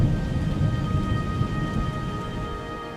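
A thunderstorm with rain and hail in wild nature: steady, dense hiss of heavy rainfall with a deep low rumble of thunder running underneath, loud and continuous throughout with no talking.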